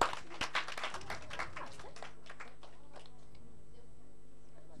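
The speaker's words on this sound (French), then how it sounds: "Applaudissez pour elle." Children in a classroom applaud a classmate in a short burst of scattered, close-up clapping that fades out within about two seconds, leaving a quiet room.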